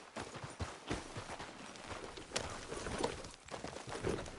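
Horse hooves clip-clop steadily at a walking pace in a video game, a moderate rhythmic patter of close hoofbeats over a faint background bed.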